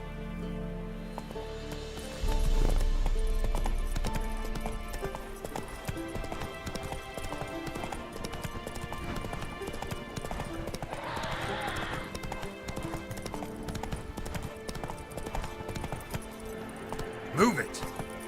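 Horse hooves clip-clop steadily while galloping in The Witcher 3 video game, a rolling mid-level beat that runs throughout under game sounds and talk, with a louder thump near the start and a brief sharp sound near the end.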